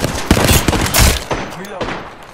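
Gunfire from the battle royale shooter Apex Legends, several loud close bursts of shots in quick succession, with game effects between them and no clear speech.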